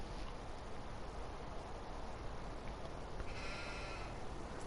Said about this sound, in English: We have sheeps.